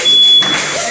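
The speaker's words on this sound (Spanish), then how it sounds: "La alarma contra incendio." A fire alarm going off at a birthday celebration sounds as a loud, steady high-pitched electronic tone held throughout, with muffled background voices and commotion underneath.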